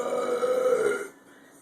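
After eating banana and drinking Sprite, a person lets out one long, loud, resonant burp that lasts about a second and then cuts off to near silence.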